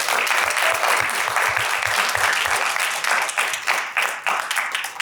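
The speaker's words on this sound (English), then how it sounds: "Please give a round of applause for our amazing panelists." A panel discussion audience breaks into full, steady applause for the panelists, a dense close wash of many hands clapping that barely fades over five seconds.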